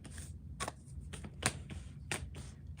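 Tarot cards being shuffled by hand, a rapid papery riffle of soft slaps and flutters in quick irregular bursts, close and fairly quiet with no talking.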